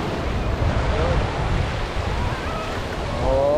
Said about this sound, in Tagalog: palaki ng palaking alon